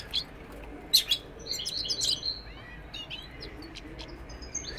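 Canaries and goldfinches sing in short bright chirps and trills, fairly quiet and scattered across a steady background hiss, with no talking.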